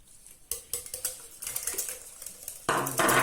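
Egg yolks being stirred into mango purée in a bowl, a series of soft, irregular scraping and tapping strokes that grow louder and denser toward the end, with no talking.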